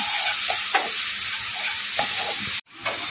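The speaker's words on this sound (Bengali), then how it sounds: "মশলাটা ভাজা হয়ে গেছে।" Spice masala frying in a pan with very little oil and a splash of water, a steady close sizzle with intermittent scraping stir strokes, briefly cut off near the end before resuming.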